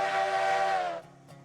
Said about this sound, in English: this is the default whistle volume, or the only whistle volume on this locomotive